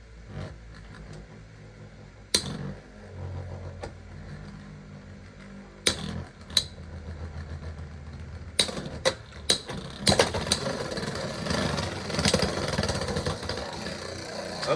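Beyblade X tops spinning in a stadium, including Wizard Rod: a quiet whirring hum punctuated by sharp clacking impacts that grow denser toward the end as the tops collide.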